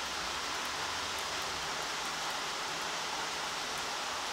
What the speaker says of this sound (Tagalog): Umuulan. Umuulan dito ngayon.